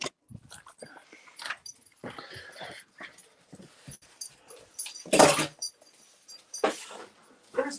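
Dogs whimper, yip and growl in short bursts, with one louder sharp outburst, in a backyard near a sewer, under intermittent speech from a person calling them.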